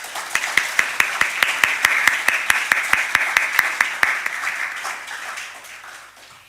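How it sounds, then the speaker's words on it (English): An audience at a regional sharing event applauds a speaker coming to the pulpit, steady crisp clapping for about four seconds with sharp regular claps standing out, then fading away as the hall quiets. "let us give her a round of applause"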